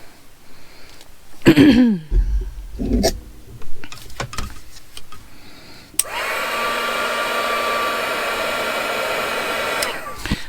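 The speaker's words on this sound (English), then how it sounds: "Might even use the heat gun on them." A heat gun blows steadily to dry steampunk butterfly craft pieces for a picture frame, starting after a few handling knocks and clicks, then running as a loud, even whoosh for several seconds before cutting off.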